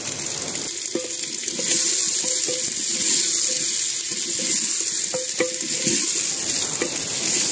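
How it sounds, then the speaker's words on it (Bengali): Meat sizzles and is stir-fried with ginger and garlic in a clay pot over a clay stove, a continuous hiss with scattered utensil scrapes and knocks, close up and without speech. "এবার মাংসটিকে দিয়ে ভালোভাবে কষিয়ে নেব।"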